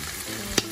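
Pork hock sizzling in a frying pan, a dense close hiss of frying with one brief sharper stir or scrape near the end; no talking.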